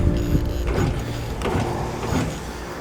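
A Suzuki Samurai engine with weak compression cranks over steadily with a starter whir and uneven, lumpy rhythm, close and fairly loud, without firing.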